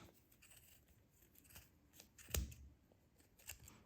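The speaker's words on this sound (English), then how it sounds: "You have to just put your blade in and cut." A blade cuts through yarn wound on a plastic pom-pom maker, making a series of soft, close snipping sounds with one sharper cut partway through. The sound is faint overall.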